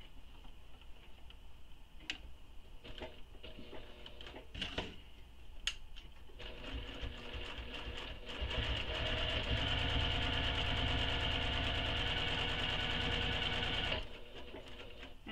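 A sewing machine stitches a crossbody bag, first in short separate ticking bursts, one stitch at a time, then in a steady whirring run before stopping, with no voices.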